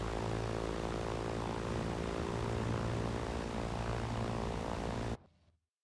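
A propeller aircraft drones steadily in the video game Far Cry 4, a loud continuous engine roar that cuts off abruptly near the end, with no talking.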